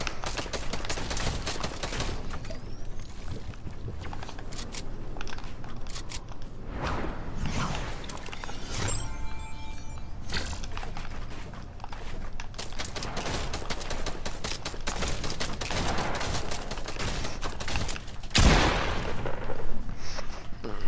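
Gunfire in Fortnite, rapid repeated shots in dense bursts throughout, loud and close, with game effects and a sharp sound near the end.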